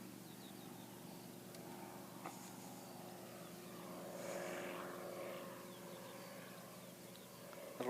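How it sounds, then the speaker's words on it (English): A small general aviation propeller plane from the Aero Club drones faintly at Christchurch Airport, its steady buzzing hum swelling slightly midway as it passes at a distance. "Little GA from the Aero Club there."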